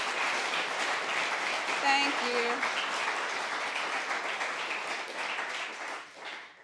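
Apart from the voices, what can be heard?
audience applause for the committee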